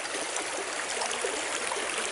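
A creek running along its bed in the woods, a steady broadband wash of flowing water that stays even and fairly close throughout, with no voices.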